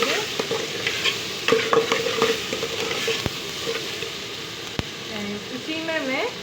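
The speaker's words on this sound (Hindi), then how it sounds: "इसमें टमाटर, मैंने डाले हैं तो इसको मिक्स करना है मुझे।" Tomatoes are stirred into tinda masala frying in a pan: a steady sizzle runs under scraping spoon strokes, with a couple of sharp knocks against the pan and a voice talking briefly near the end.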